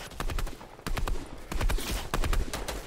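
Gunfire in Fortnite comes in several rapid bursts of sharp, close shots separated by brief pauses, loud and punchy with no talking over it.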